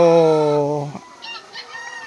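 Hens and a rooster in a breeding flock of ten hens to one male: a loud close crow-like call ends abruptly, followed by softer scattered clucks.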